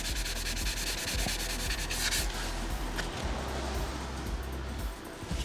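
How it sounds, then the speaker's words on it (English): Taxi bodywork is hand sanded to rub away small surface particles, a close, steady back-and-forth scraping rub that repeats in even strokes for several seconds with no talking. "I'm just going to give that a little rub down, get rid of those little particles that are there"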